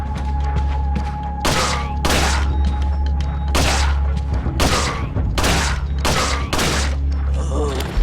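Gunfire in Resident Evil 4: a run of loud, close shots, about eight sharp blasts at an uneven pace over a low droning background, with a few words spoken between them.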